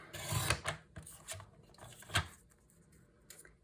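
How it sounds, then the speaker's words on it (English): Scissors cut along the edge of a sheet of patterned paper in a few short, soft rasping snips at close range. The sound is faint and comes in brief bursts separated by quiet gaps. "So then I'll just cut this edge to be about the same."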